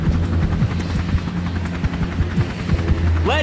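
A helicopter in the video game Syphon Filter 2, a low throbbing rotor hum running steadily under scattered game sound effects, with a brief rising electronic sweep near the end.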